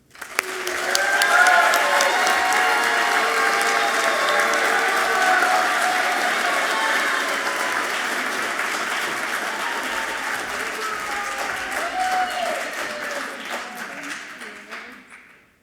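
An audience at a distinguished alumni awards ceremony applauds an honor alumna award recipient, with sustained clapping and some cheering that swells early, stays full, then tapers off near the end.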